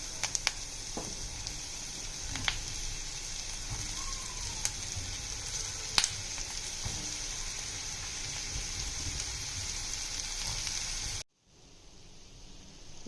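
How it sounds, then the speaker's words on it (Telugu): Bottle gourd pieces with turmeric sizzle steadily in a pan, a continuous close hiss with a few faint clicks, cutting off abruptly near the end to near silence. "కొద్దిగా పసుపు వేసుకొని కలుపుకొని సొరకాయ ముక్కలు వేసుకొని మగ్గించుకోవాలి"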